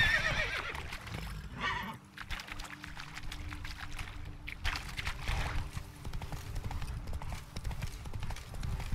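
Roach, the horse in The Witcher 3: Blood and Wine, gives a clear whinny amid steady clip-clop hoofbeats, with a faint trickle of liquid beneath and an ongoing low ambient rumble.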